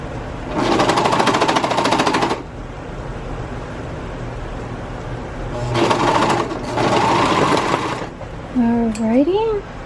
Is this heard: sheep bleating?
no